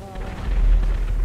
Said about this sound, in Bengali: কি জানি ব্লাস্ট হইতেছে